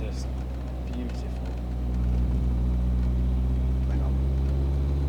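An Alfa Romeo's engine hums low while driving, then swells into a louder, sustained revving drone about halfway through, with people talking over it.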